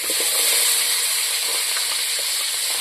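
Eggs fry in hot oil in a wok, giving a steady bright sizzle with faint crackles and small pops scattered through it, close and continuous.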